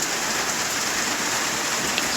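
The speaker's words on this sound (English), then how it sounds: "last night, we got a rainstorm to just, wow, it was huge" Heavy overnight rainstorm pouring down in a dense, unbroken hiss of rain on surfaces, loud and steady throughout with no voices.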